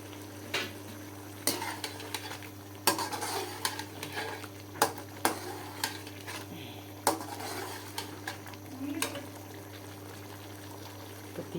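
A cooking pot rattling and clattering on a wobbly stove while chicken degi biryani cooks, with irregular metallic knocks and scraping over a constant low hum and faint sizzle.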